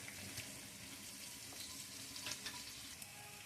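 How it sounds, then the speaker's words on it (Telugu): Finely chopped onions frying in a pan of oil with dried red chilli for idli upma, a steady close sizzle with faint stirring scrapes and no talking. "ఇప్పుడు సన్నగా తరిగిన ఉల్లిగడ్డను వేసుకోవాలి ఇది కొద్దిగా గోల్డెన్ బ్రౌన్ కలర్లోకి రావాలి"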